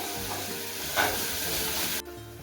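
An uttapam sizzles on a hot pan with a steady frying hiss, swelling briefly before cutting off abruptly, close and moderate in loudness.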